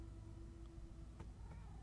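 A cat in Minecraft Story Mode gives a faint, brief meow-like sound over a low background hum, with a short tonal cry near the end.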